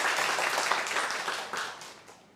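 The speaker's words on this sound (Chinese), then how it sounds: "再一次拍手欢迎他" Church congregation clapping in welcome during a Taiwanese-language Sunday service, a brief burst of mixed claps with a few sharp hits, fading out toward the end.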